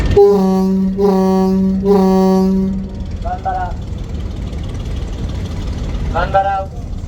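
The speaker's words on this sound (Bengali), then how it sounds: "আর একটি ইঞ্জিন এখন সামনে চালাচ্ছে আর একটি পিছনে" Passenger launch Doyel Pakhi-10, a multi-engine river vessel on the Dhaka–Bhola route, with a steady low engine drone throughout, three long horn blasts at the start and short tonal toots later.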